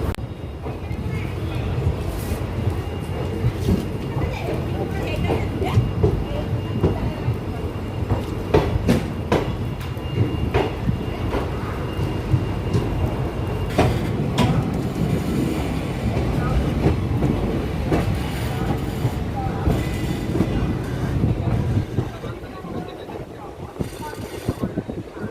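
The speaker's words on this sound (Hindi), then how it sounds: "तो अपनी train from new Tinsukia railway station से अब डिपार्चर हो रही है" Barak Brahmaputra Express pulls out of New Tinsukia station, with a continuous low rumble of the rolling train, wheel clicks and clanks, and wind buffeting, while a voice talks over the noise.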